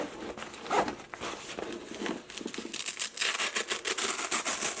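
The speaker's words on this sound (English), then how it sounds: "Let's unzip this part here." Backpack compartment zipper being pulled open, a series of quick close rasping strokes in uneven bursts, louder and denser toward the end, with no talking.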